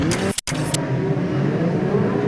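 Midget race cars compete in a heat of the New Zealand Midget Car Championship at Ruapuna Park, a steady engine drone with a brief sharp break near the start, then continuous running.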